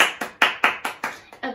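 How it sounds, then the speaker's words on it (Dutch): A few children clapping in applause during a Sunday session for 3-6 year olds, with seven or eight separate, fairly loud claps in an uneven rhythm, close by and without talk. "Applaus voor de Heer."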